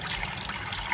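Cloudy rinse water trickles and pours off rice as it drains, a brief close liquid splashing lasting about a second.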